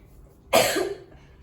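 A young child with a cold lets out a single sharp, close cough, then near silence follows.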